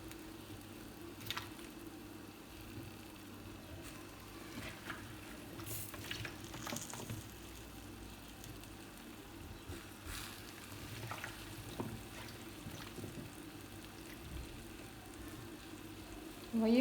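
Chunks of potato, turnip and carrot for a meatless vegetable tajine fry and get stirred in a pan, giving a faint, steady low sizzle with soft scraping stir strokes throughout.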